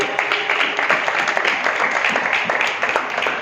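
A church congregation at an Urdu-language Sunday service applauds loudly to welcome an elder to the front, a thick burst of close clapping with a few voices mixed in.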